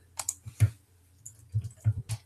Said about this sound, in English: You see me typing hi?